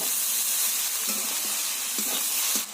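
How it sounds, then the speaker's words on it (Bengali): Ground spices sauté in hot oil for a cabbage curry, a close, steady sizzling hiss with soft stirring scrapes running throughout. "ভালো করে কষিয়ে নেব"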